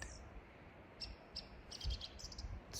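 Small birds chirp in a quiet forest near a stream, with brief high tweets scattered across a faint, hushed background and several quick calls bunched toward the end.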